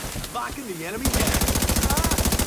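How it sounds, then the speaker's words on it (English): Rapid automatic gunfire from The Division 2 rattles in a steady fast rhythm, loud and close, beginning after a stretch of voice talking and continuing without pause. "Putting bullets downrange."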